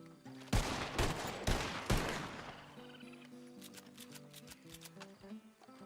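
An Evans repeater rifle hip-fired in a Red Dead roleplay video game, several loud sharp shots in quick succession, then quieter game ambience with music-like tones.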